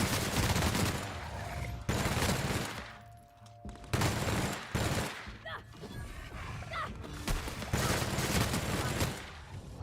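Rapid bursts of gunfire from a gun in the Outer Worlds video game, loud repeated volleys separated by brief pauses, with in-game effects and a voice speaking at times.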